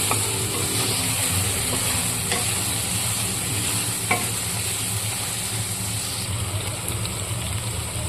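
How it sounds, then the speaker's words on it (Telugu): Stuffed eggplant curry (Andhra gutti vankaya) frying in a pan while being stirred from bottom to top: a steady, close sizzle runs throughout, with faint scraping from the stirring. "అలా వేయించుకోండి బాగా సో మొత్తం కలుపుకోండి ఇలా కింద నుంచి పై వరకు"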